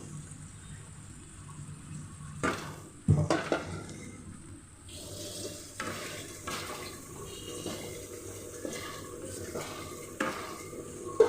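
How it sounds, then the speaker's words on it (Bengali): Washed okra being stirred in a cooking pot, a spoon scraping and knocking against the sides in a run of uneven strokes with an occasional louder clatter, over a faint low sizzle. "এখন আমি ভালোভাবে নেড়ে দিব, তারপর ঢাকনা রেখে দিব"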